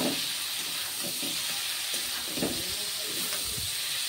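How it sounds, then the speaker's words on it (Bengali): Vegetables sizzle and hiss steadily as they fry in a hot pan, with scattered scraping knocks of a spoon stirring through the steady crackle. "সবজি একটু বালা করে নাড়াচাড়ি করুন।"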